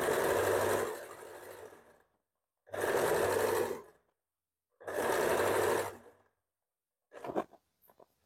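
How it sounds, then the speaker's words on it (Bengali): A sewing machine stitches a blouse in three even bursts, each about a second long with pauses between them, followed by a few quick clicks and handling noises at the end. "এখানে প্রথমত মেশিনে সেলাই করে নিচ্ছি, পরে আমি হেম করে নেব।"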